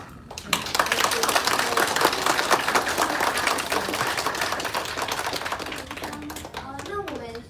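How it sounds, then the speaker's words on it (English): Audience members clap for John after a lecture, a sustained, fairly loud wash of applause that holds steady before tapering, with a voice speaking near the end. "One more time, one more round of applause for John."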